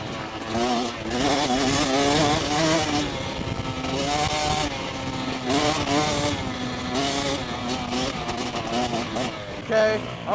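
A Yamaha dirt bike engine revs hard and continuously at a motocross meet, a loud, buzzing whine rising and falling close by, with other engines and people talking underneath.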